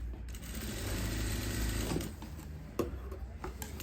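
A sewing machine runs stitches around the neckline of a warm winter suit, a close, steady mechanical whir lasting about two seconds before stopping, followed by a few faint clicks and handling noises.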